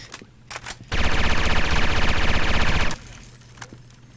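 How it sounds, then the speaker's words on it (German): A sustained burst of rapid automatic gunfire in a video game lasts about two seconds, loud and continuous, with quieter clicks and handling sounds before and after. "Erstmal schön 60 Schuss in die Wand geballert"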